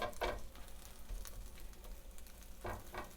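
Breakfast food cooking down in a frying pan, a quiet low sizzle with a few brief stirring scrapes, faint and close, no one speaking.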